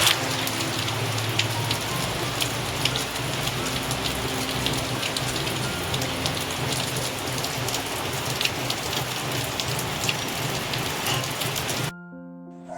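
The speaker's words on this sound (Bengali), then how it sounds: "বৃষ্টির আওয়াজ শুনতে তোমাদের কেমন লাগে অবশ্যই কিন্তু আমাকে জানিও।" Light rain falls steadily on surfaces, making a dense, even patter that runs unbroken for most of the stretch before cutting off near the end.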